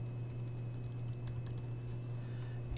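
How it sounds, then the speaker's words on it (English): Soft keystrokes on a computer keyboard as a name is typed, a quick irregular patter of light taps over a steady low hum, no voices. "This input box allows me to type in my name"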